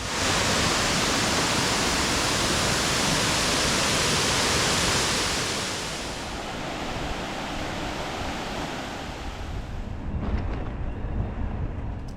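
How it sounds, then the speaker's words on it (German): Loud, broad rushing water at the water mills on the Pliva river, a continuous roar that eases slightly midway but keeps going throughout with no voices. "Wassermühlen an der Pliva."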